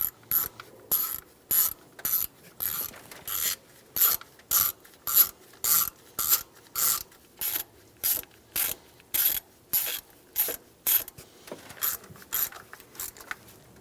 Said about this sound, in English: Install the bolts for the fuel rails.